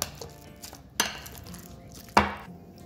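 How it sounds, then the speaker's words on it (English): Ripe avocados are smashed in a bowl for guacamole, with two sharp, distinct knocks of utensil against dish standing out over quieter scraping and handling sounds. "Here I have 3 ripe avocados. And with this, I'm just going to smash it."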